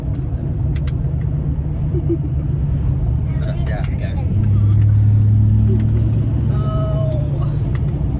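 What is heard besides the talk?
loud truck engine running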